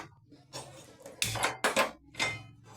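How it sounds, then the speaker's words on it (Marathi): An iron kadhai set down on a gas stove in a home kitchen gives a few close metallic clanks and scrapes in separate bursts, with no talking. "हे असं आपण आता गॅसवर आता ही कढई ठेवली"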